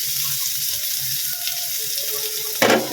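Dried fish sizzling in a frying pan while cooking Chinese-style adobong kangkong, a steady crackle with a louder burst of hiss near the end.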